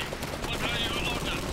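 Machine gun fire in the strategy game Iron Harvest, a rapid crackling burst running the full moment under steady background noise, with a voice talking over it.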